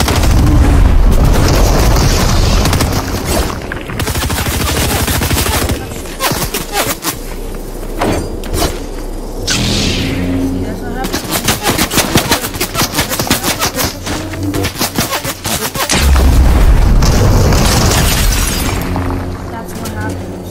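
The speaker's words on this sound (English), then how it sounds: "stop shooting at me." Gunfire in a shooting video game, loud sustained bursts of automatic fire and booming blasts filling the scene, with a player talking over the barrage.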